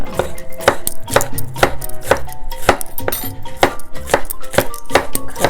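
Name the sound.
knife chopping pepper finely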